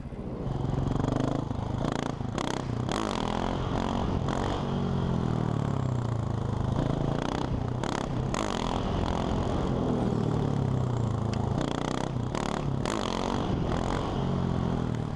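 A motorcycle engine revs in long sustained rises and dips during a wheelie on throttle and rear brake, loud and close, with intermittent rushes of wind noise across the microphone.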